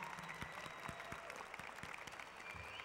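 A large seated audience at a 2010 ceremony applauds a group of young people for their backstage work, giving a faint, distant and steady wash of clapping that carries on evenly with no voices over it.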